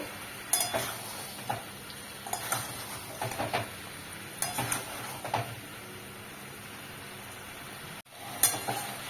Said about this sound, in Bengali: মশলাটা দিলাম, একটুখানি নেড়ে চেড়ে ঢাকা দিয়ে রেখে দেবো।